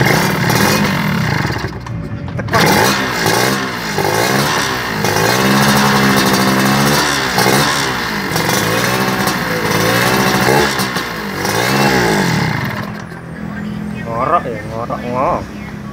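A motorcycle engine fitted with a cheap PWK 28 mm carburetor is revved repeatedly, with its pitch climbing and falling in rising and dropping sweeps from close range over a steady idle.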